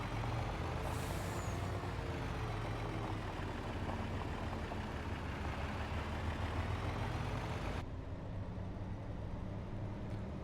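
A Freightliner semi truck runs with a steady, loud, continuous engine rumble heard from inside the cab, broadband and unbroken, with no voices.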